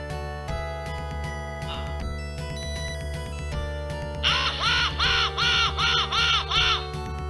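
A synthesized crow-like cawing from the Sega Genesis game Phantasy Star III rises over chiptune music, a run of six or seven rapid, evenly spaced harsh caws that are louder than the backing tune.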